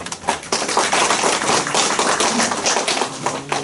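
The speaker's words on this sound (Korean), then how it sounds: "한번 박수 한번 부탁드립니다" An audience at a provincial council debate forum applauds, a dense burst of hand clapping that holds steady throughout.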